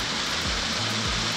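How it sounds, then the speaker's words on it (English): Rushing waterfall beside a campsite in Tahoe National Forest at sunrise, a loud, dense, continuous roar of falling water with no pauses, heard close and alone. "And the waterfalls is right there."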